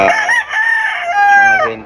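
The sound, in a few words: chicken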